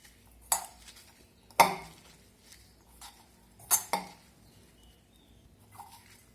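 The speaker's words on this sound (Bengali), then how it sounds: "লবণটা দিয়ে আমি এখন মেখে নেব।" Washed drumstick flowers being mixed by hand with salt in a kitchen bowl, producing a few scattered soft rustles and light clinks against the dish, separated by quiet pauses, close and fairly faint.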